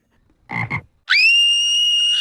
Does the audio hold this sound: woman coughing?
no